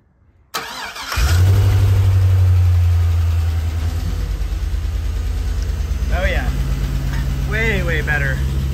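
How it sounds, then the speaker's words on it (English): A 4.8 LS V8 swapped into a 1974 Corvette cranks briefly and catches, then settles into a loud, steady low idle close by, with a voice speaking briefly over the running engine. "try and fire this thing up again"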